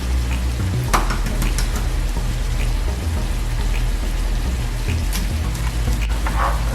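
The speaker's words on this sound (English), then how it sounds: "I'm gonna crack them in there and cook them with the rice" Eggs fry with rice in a chicken stir fry pan, a steady close sizzle with scattered crackles and occasional stirring scrapes, no talking.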